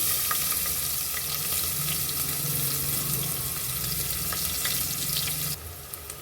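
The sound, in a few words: onion frying with cumin and hing in hot oil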